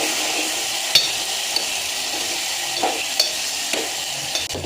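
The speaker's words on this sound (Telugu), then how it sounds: "పచ్చిమిర్చి బాగా వేపుకోవాలండి." Green chillies and curry leaves fry in hot oil for a tamarind rice tempering, giving a constant close sizzle and crackle broken by a few sharp spoon taps on the pan.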